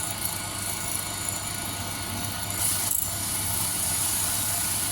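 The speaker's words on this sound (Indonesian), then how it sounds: "Ini kita poles menggunakan diamond wheel ukuran 1200 kawan" A diamond wheel with 1200 grit polishes a rough kalimaya crystal, giving a steady whirring grind with a continuous gritty rubbing texture throughout, fairly close and alone.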